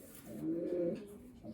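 A blue bar cock racing pigeon, an old Bushart bird, gives a soft, low cooing burr while held in the hand, close and fairly quiet, swelling in the middle and easing off toward the end.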